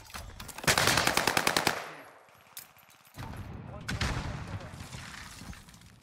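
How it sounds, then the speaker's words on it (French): Video game gunfire: a rapid burst of automatic shots, then a pause with a faint mechanical whir, followed by further scattered shots and sustained firing at moderate level. "Quelqu'un a ouvert le feu sur cette personne"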